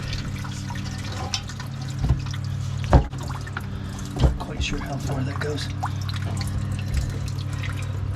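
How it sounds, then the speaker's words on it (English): Cooling water drips and trickles steadily from a boat's exhaust system and muffler, close by, with a few louder splashes and someone talking briefly. "we got some water coming out of the exhaust system, so that's cooling water."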